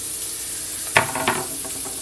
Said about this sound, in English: you smell that sizzle?